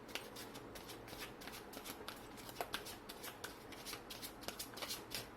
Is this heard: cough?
no